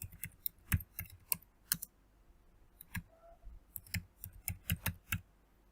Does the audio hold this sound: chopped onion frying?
no